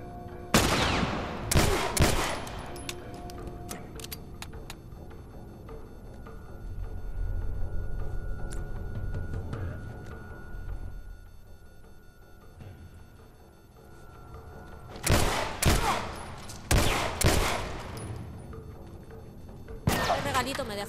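Bursts of rapid gunfire in the video game The Last of Us: Left Behind crackle in loud volleys at the start and again near the end, with quieter rumbling and someone talking in Spanish in between.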